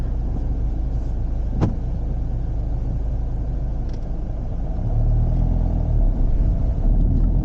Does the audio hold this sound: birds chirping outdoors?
no